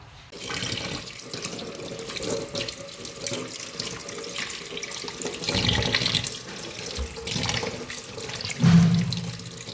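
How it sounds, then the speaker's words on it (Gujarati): Potatoes being washed under a running kitchen tap, water splashing steadily into a sink with shifting gushes and a brief louder burst near the end, close and with no talk. "સૌપ્રથમ આપણે લઈશું 2 કિલો બટાકા, એને સરસ વોશ કરી નાખીશું"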